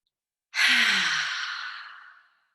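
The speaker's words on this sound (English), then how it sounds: "let's take 3 nice deep breaths together" A single long, deep breath released as a close, airy exhale, swelling quickly and then fading out over almost two seconds against silence.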